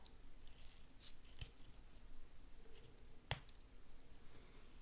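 Scissors snip a dovetail into the end of a folded ribbon streamer, giving a couple of sharp, close cuts over a quiet room background with no talking.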